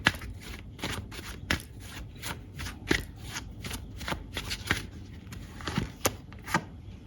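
Tarot cards riffle and slap in a steady run of sharp shuffling bursts, close and fairly quiet, about a dozen quick strokes with no talking over them.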